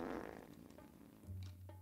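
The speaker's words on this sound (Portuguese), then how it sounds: "E esse bufa-bufa tá peidando em cima deles" A cartoonish fart sound effect rips through action music in the Guerreiros Prismágicos video game, a low buzzing blast lasting about half a second, loud and close.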